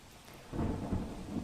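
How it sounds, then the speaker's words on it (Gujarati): Heavy monsoon rain over town streets in Gujarat, a dense steady downpour that swells into a loud rumbling surge halfway through, with no voices. "વિરાવળ, ટાટા સ્કૂલ તેમજ જૂના થાણા સહિતના વિસ્તારમાં વરસાદ વરસી રહ્યો છે"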